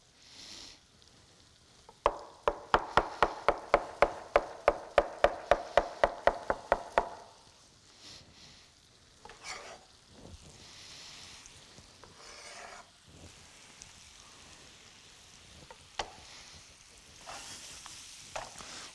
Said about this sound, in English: So we get our bananas in that pan, coated with butter a little bit.